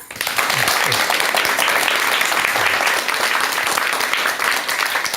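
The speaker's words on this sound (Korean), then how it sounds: "그럼 큰 박수와 함께 박사님의 강의 청해 듣도록 하겠습니다." A lecture audience breaks into loud, close applause to welcome the speaker, a dense, even clatter of many hands starting abruptly and continuing strongly for about five seconds.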